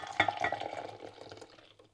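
Dirty water from cleaning a beard brush, cloudy with over a year of built-up grime, pours out in a short splashing stream that starts abruptly and trails off within two seconds.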